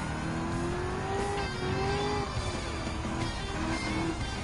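A supercar engine races in Gran Turismo 7, holding a loud, sustained high-revving drone with rising and falling pitch as it climbs through gears on tarmac, heard alone without any speech.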